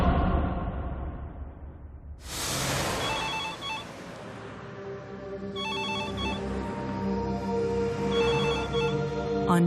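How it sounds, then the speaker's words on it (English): Telephone ringing in repeated short trilling bursts at a steady interval, set against a dense musical background. "Michel Tolles receives a phone call from his son Fabio."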